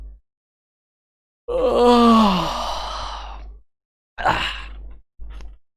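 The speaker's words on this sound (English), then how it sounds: "I'm very tired. Very tired. I'm gonna yawn." A man gives one long, loud, drawn-out yawn that falls in pitch and tails into a sigh, followed after a pause by two short breathy exhales.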